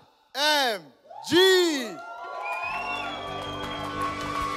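Two loud shouted voice calls ring out, then a crowd at a talent show finale cheers and claps in a steady wash, with music underneath.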